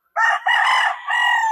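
A white rooster crows loudly and close by in a backyard, one long strained call in several sustained segments, with no other sounds around it.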